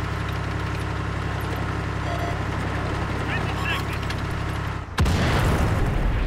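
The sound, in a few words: artillery fire in World of Tanks video game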